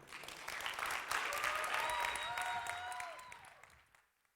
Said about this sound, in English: Great round of applause for all of these amazing